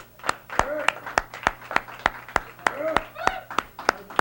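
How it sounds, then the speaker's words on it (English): A handful of slow, spaced claps for the band, sharp separate hits in a steady rhythm, with a voice talking over them and a low steady hum underneath. "how about a round of applause for these guys who work really hard?"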